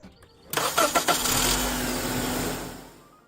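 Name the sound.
car engine cranking and starting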